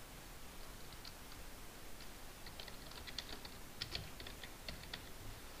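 Fingers type on a computer keyboard with soft, faint clicks scattered irregularly beneath a steady hiss, growing a little denser toward the end.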